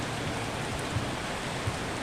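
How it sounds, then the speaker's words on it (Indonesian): Rain falls as an even, dense hiss of steady pattering, with a couple of heavier drops and no voices. "mau jalan ya malah hujan"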